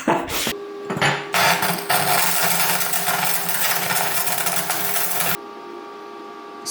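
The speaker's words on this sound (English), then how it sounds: "now we're just gonna get to welding" Welder tacking an SR20 engine adapter plate into place, a loud continuous crackling buzz lasting about five seconds after a few short sputtering starts, then cutting off to a quieter hum.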